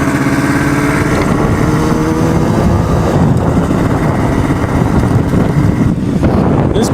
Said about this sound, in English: Just got the bike started again.